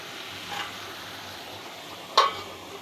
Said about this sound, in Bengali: আমি ভালোভাবে নেড়ে চেড়ে দিচ্ছি।